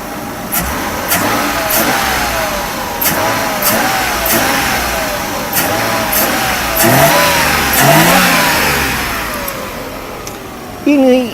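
A Mercedes-Benz R129 300SL with a rebuilt 24-valve six-cylinder 104 engine revs repeatedly, loud and close, its pitch rising and falling in several throttle blips over a steady idle, while people talk nearby.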